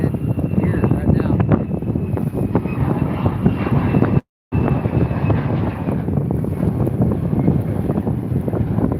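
Military Raptor jets roar overhead in a continuous, broad rush outdoors by creeks. The roar is heavy with wind noise and mixed under someone talking, and it cuts out for a brief moment midway.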